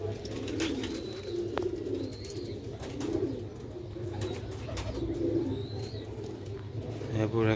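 Tiger pigeons, a male and a young female, coo in a low repeated rhythm close by, with occasional soft chirps from other birds over a steady background hum.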